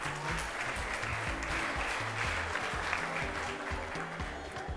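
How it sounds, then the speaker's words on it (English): Audience applause at a school cooking competition final as judges join the stage, a continuous even wash of clapping from a large crowd, fairly distant and sustained with no talk over it. "Let's give them a big round of applause."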